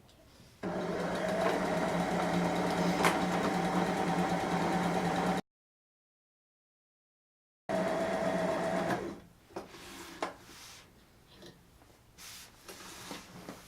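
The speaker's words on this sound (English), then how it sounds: "she's going to go ahead and sew it right down on top of that seam" A sewing machine stitches a seam down a pant leg: a steady, close mechanical whir runs for about five seconds, cuts out, then resumes briefly before giving way to quieter handling noises.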